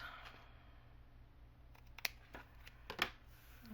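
Scissors snip paper for a journal pocket page, a few quiet, sharp cuts spaced apart over a low background hum, close by and faint.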